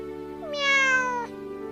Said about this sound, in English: The cat says, Meow.